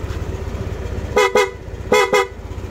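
A stock vehicle horn honks twice in quick double beeps, a short pause, then another double beep, loud and close over a low engine rumble.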